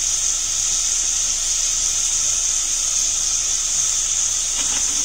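Green chillies and ponnanganni greens sauté in a pan with a loud, steady sizzle that runs without a break the whole time, with no voices.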